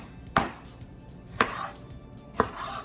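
Kitchen knife roughly cubing Roma tomatoes on a cutting board, three distinct thuds spaced about a second apart, close and clear with no talk.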